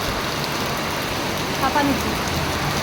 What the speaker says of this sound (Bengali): ভীষণ মুষলধারে বৃষ্টি পড়ছে